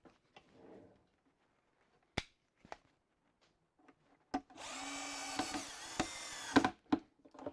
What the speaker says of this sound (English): I need to use my screwdriver on it, of course.